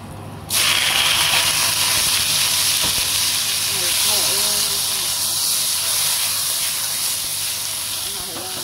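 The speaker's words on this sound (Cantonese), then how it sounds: "我就會將啲菜落翻鑊㗎啦" Broccoli, carrot and king oyster mushroom go into a hot wok with ginger and erupt into a sudden loud hiss. A strong, close sizzle then runs on steadily and fades slightly toward the end.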